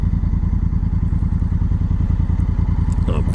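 A Honda Africa Twin DCT motorcycle idles close by as it is parked at a dealership, its steady loud engine pulsing evenly throughout with a faint clatter near the end.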